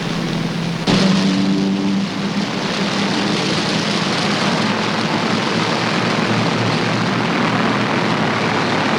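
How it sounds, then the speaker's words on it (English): Wartime aircraft pass overhead during an attack, a dense roaring propeller-engine drone that swells loud and stays constant, with a brief tonal horn-like blast near the start, no voices present. "Aircraft right behind us, starboard bows."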